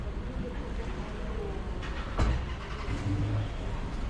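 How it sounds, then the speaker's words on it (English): A Dodge Charger police car, likely V8-powered, starts its engine: a low rumbling crank that catches into a brief surge midway, then settles to a steady idle, heard at moderate distance among background noise. "there's a Charger starting up."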